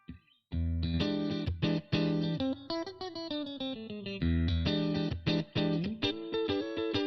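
Heavily distorted electric guitar chords ring out loud and sustained, with a few brief gaps between strummed phrases and sliding notes.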